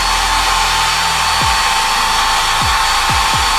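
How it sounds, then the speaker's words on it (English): A hair dryer blows steadily and close by as a wig's lace is set in place, a constant broadband whoosh heard alone with a few low thumps and knocks underneath. "Blow dry it a bit."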